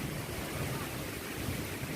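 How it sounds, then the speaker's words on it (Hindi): Rain falls steadily on a late March afternoon along the Narmada parikrama route, amid a thunderstorm with lightning, giving a loud, continuous broadband hiss with no pauses and no voices. "देखिए अब यहाँ पानी गिरना शुरू हुआ, बारिश शुरू हो गई थी।"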